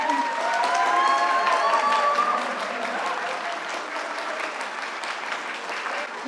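Crowd applause at a redevelopment launch ceremony in Bucheon Jung-dong as a ceremonial rice cake is cut, dense sustained clapping with a faint tone line early on, gradually easing.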